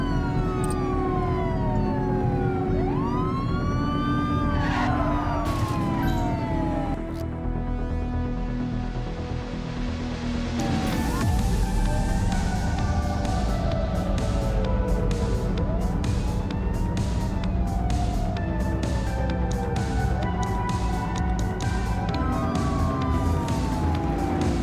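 Police sirens wail continuously through a vehicle pursuit in The Precinct, several overlapping rising and falling tones with a brief lull before loud siren cycles resume amid traffic noise.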